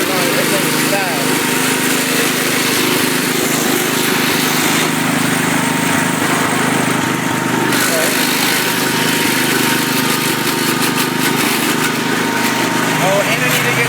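A Cub Cadet lawn tractor's small engine, fitted with larger tires, runs steadily and loudly close by after a cold start, a continuous mechanical drone with a voice talking over it.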